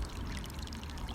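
Water from a garden pond's bog filter spilling into a stream that runs back down to the pond, a steady close pouring wash with no pauses.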